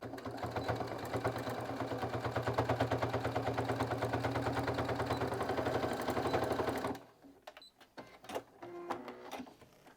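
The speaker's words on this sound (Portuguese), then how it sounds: "agora eu vou levantar esse forro e vou costurar todas as camadas de baixo juntas com a mesma medida de pé de máquina que a gente estava usando" A sewing machine stitching through several layers of fabric runs in a fast, even mechanical rattle for about seven seconds, then stops, leaving scattered light clicks and handling noises.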